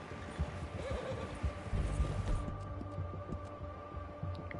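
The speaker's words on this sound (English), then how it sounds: "Meu cavalinho tá cansando." A horse in the video game Red Dead Redemption 2 gives a snorting whinny amid clip-clopping hooves and a low rumbling background, moderately close, with no talk over it.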